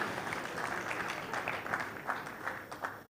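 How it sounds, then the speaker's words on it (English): Applause from an audience at the MTN Uganda listing ceremony on the Uganda Securities Exchange, a steady moderate wash of many hands clapping for about three seconds before cutting off abruptly. "That's another round of applause, ladies and gentlemen."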